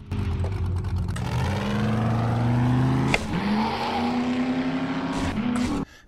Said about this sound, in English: let's take the Jeep for a cruise